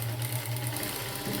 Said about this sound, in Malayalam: ലൈനിങ്ങും ഇതും കൂടെ ചേർത്ത് ഒരു തയ്യൽ വെച്ചു